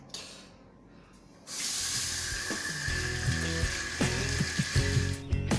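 Bottled water poured over fruit to wash it while travelling in India, with a steady hissing splash starting after a quiet opening and running on with irregular knocks and clatters underneath.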